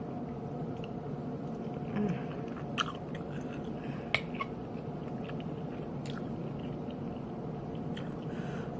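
Close, steady chewing of shrimp under a faint background hum, with a few soft crunchy bites and wet mouth sounds spread through, no talking.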